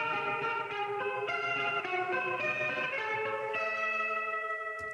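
A Leslie-style guitar part run through a Fender Vibratone rotating speaker on a song rings out in sustained, warbling chords with a swirling, slightly distorted tone, steady and loud with no voices over it.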